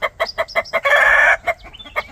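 Red pile cross minor blue gamecock crowing once in a long, loud call, set among repeated short clucks from minor blue hens close by, with no talking.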